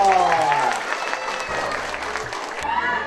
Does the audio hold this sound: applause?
yes